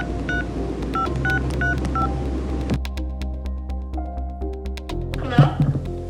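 Telephone number being dialed on a phone: a rapid series of short keypad tones in quick succession, followed by a steady ringing tone and a final brief click or burst near the end.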